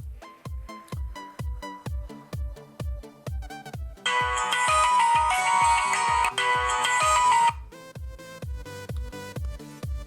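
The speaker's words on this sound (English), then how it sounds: "you can choose from different phone ringtones, notification tones" A phone ringtone on a K2 W100 smartwatch plays loudly, a repeating electronic melody of plucked notes, joined midway by a brighter, denser synth passage before the simple pattern returns.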